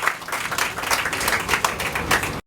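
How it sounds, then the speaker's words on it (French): An audience at a university website handover ceremony applauds steadily and densely for a couple of seconds, with scattered individual claps close by. "Sous vos applaudissements, mesdames, messieurs."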